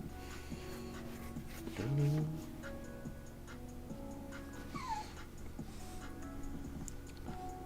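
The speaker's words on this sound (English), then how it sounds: "What's up with my dog? It's because we've got someone in the house. So he just cries over anything" A pet dog named Winston whimpering indoors, a strained whine swelling briefly near the start then softer cries later, heard over a quiet room with faint ticking clicks in the background.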